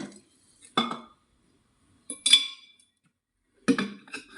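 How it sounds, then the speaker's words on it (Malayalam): Rock salt dropped into a bottle for cleaning, heard as three separate bursts of close, gritty clinks and rattles separated by quiet pauses, with no talking. "കുറച്ച് കല്ലുപ്പ് എടുക്കുക അത് ബോട്ടിലേക്ക് ഇടുക"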